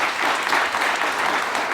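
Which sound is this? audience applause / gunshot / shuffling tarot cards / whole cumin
audience applause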